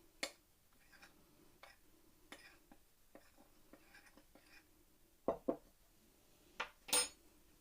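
Baking powder is stirred into flour in a bowl, producing quiet, scattered taps and scrapes of a spoon against the bowl, with a few sharper clinks toward the end.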